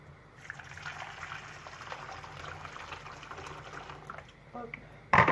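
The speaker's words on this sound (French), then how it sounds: "on va rajouter de l'eau chaude." Hot water trickles and splashes into a bowl to set up a bain-marie for Swiss meringue buttercream, a soft, uneven pouring sound under faint background noise, ending with a sharp clatter.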